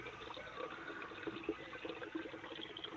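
Water draining out of a fixed-dome biogas plant fed with kitchen waste, running through an L-shaped pipe into a bucket, a soft, continuous trickling and gurgling, faint and close, with no talk.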